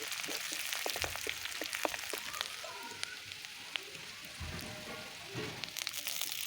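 Onions and ginger paste frying in a pan, a soft crackling sizzle with scattered sharp pops and light scraping knocks from stirring, fairly quiet and close throughout.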